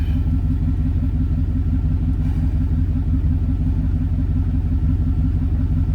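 A 1996 Chevy Tahoe engine idles with a steady, even, low rumble that holds at the same level throughout, close by and with no voices.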